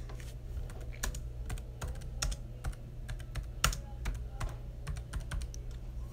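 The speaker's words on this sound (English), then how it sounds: "You still typing? Yeah, sometimes, yeah, i typing on a computer." Steady typing on a computer keyboard, with rapid irregular key clicks and occasional heavier strokes, close and continuous over a low background hum, with no voices.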